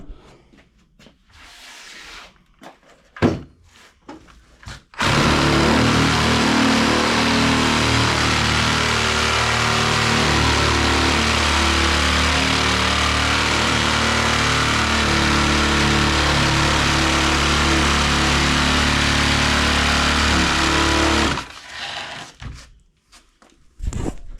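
A belt sander stapled onto a rig runs steadily while sanding down the wood of a waterbed frame, a loud continuous motor drone with a gritty abrasive hiss that starts abruptly, holds for about sixteen seconds, then cuts off.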